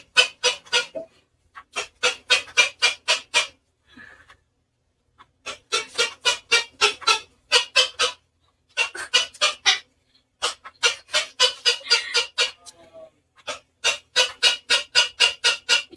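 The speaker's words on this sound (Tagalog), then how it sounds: "Ang ingay ng ibon, legit." A noisy bird calls loudly and close in repeated bursts of rapid squawks, separated by short pauses.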